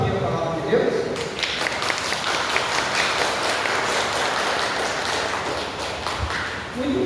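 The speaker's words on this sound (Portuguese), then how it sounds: "Vamos aplaudir a palavra de Deus?" A church congregation applauds after the Gospel reading at a Sunday rosary service in São José church, Bragança. The clapping is steady and full and fills the room for about seven seconds.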